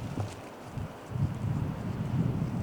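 Wind gusts across high mountain country during a Utah mule deer hunt, a low, buffeting rumble on the microphone that swells and eases in uneven pulses, with no voices.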